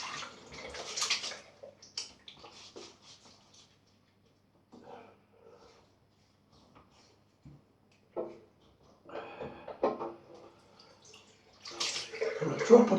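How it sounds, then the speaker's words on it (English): Running water rinses off after a wet shave with a safety razor, splashing in bursts at the start and again near the end, with quieter gaps between; someone speaks briefly over it. "Now we'll have a rinse off."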